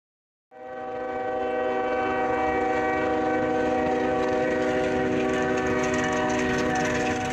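A train horn blasts suddenly and holds a loud, steady chord, with the rumble of the passing train beneath it.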